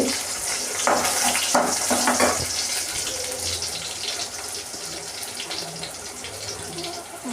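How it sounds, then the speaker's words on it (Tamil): Fish curry (meen kulambu) bubbling in a pot, a steady close hiss of boiling liquid with a few louder bursts of sputtering near the start and no voices. "நல்லா பொங்கி வந்துருச்சு"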